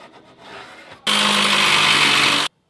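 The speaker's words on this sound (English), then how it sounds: "put it onto more pieces of cardstock as well as metal, and then cut it out for the other side" Cardstock and sheet metal for a drift car cage base plate being cut with a tool, a steady loud rasping burst of about a second and a half that stops abruptly, with quieter scraping before it.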